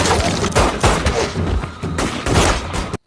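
Pistol gunshots in a film scene fire in a rapid burst of sharp, loud cracks, several shots in quick succession with a thumping, echoing blast quality and no clear speech.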